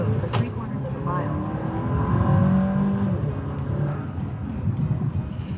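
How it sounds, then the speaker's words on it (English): A 2024 Chevy Traverse engine accelerates hard from inside the cabin, a steady raspy drone rising slightly in pitch under road noise, with a brief voice prompt near the start. "Okay, so we get a little bit more of that engine rasp."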